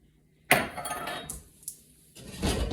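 A metal cooking pot is picked up and set down in a kitchen, giving a sharp clanking hit followed by lighter clinks and rattles, then a brief rushing sound near the end.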